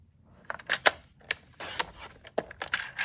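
Sharp crisp snips and rustles, close and fairly loud in an otherwise quiet room, as a layer of patterned paper for a card is trimmed to size.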